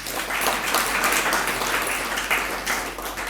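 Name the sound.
audience clapping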